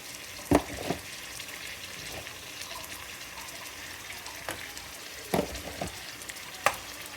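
Onion fries softly in a pot with frozen ginger-garlic paste added, giving a steady quiet sizzle broken by a few sharp clinks and scrapes of a spoon.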